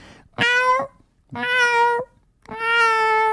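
A person's voice imitates a cat meow three times, each a loud, close, drawn-out nasal cry with clear pauses between them.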